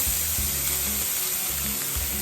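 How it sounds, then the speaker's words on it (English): Spam and kimchi frying in a little oil in a pan give off a steady, continuous close sizzle and hiss throughout, with no talking. "And now it's time to cook spam and kimchi. A little bit of oil again. Kimchi in."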